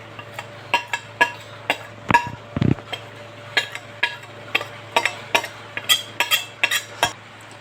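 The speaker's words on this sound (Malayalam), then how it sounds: "നമുക്കൊന്ന് ഇളക്കി കൊടുക്കാം." Spoon clinking repeatedly against a vessel while turmeric, chilli and pepper powders are stirred into tamarind water for rasam, a steady rhythm of close, bright metallic taps with a brief scrape partway through.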